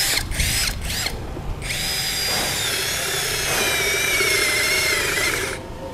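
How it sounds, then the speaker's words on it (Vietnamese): A cordless drill with an auto spindle lock bores through material, giving a few short trigger bursts before a steady, loud whine that runs for several seconds and then stops. "test cho anh chị cái con khoan này"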